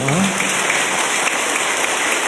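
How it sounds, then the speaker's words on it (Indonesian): An audience applauds the fathers at a Father's Day gathering, a steady wash of clapping that holds at an even level throughout. "Marilah kita bagi tepukan kepada Bapak-Bapak kamu."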